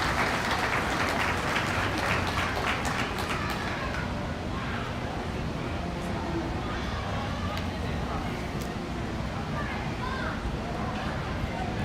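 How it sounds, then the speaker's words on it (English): Audience applause at a beef cattle open show, a burst of clapping that is loudest at first and then fades into crowd murmur, with a voice talking over a PA. "Let's give him a nice round of applause as we start off our open show."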